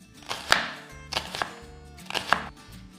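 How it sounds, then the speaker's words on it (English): A wet knife blade slices onions thinly on a cutting board, giving sharp, close taps in small uneven bursts of two or three cuts, with no talking. "We cut them into thin slices like this."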